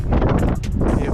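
Strong wind buffets the microphone on the coast of Phillip Island, a loud, rough, continuous roar with gusty surges.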